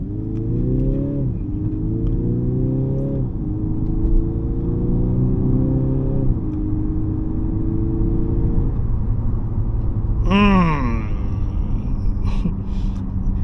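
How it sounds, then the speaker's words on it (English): A 2025 Mercedes-Benz E220d AMG Line diesel in sport mode accelerating from inside the cabin, its engine note climbing through several stepped upshifts, then a sharp rev rise and drop near the end, loud and continuous. "You know, this diesel sounds like a petrol."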